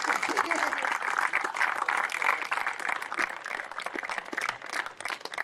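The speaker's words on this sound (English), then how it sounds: "Give them a round of applause for their work so far." Sustained, dense applause from a football grand final crowd honouring a police unit band, a continuous crackle of many hands clapping at moderate distance with no clear pauses.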